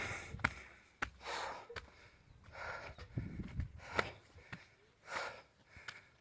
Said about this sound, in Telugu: ఆయాసం అయితే వస్తుంది